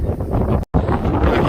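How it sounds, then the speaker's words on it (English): Strong gusting wind buffets the microphone on the open Max Patch mountain summit, a loud continuous roar with one abrupt cutout midway. "Still really windy, but it's kind of fun."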